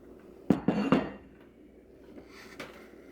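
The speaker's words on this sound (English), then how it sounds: "Now, I just take it, scrape it into the pan" Bread dough being scraped from a bowl into a baking pan, a few loud clanks and scrapes of the bowl against the pan close up, then quieter handling noises.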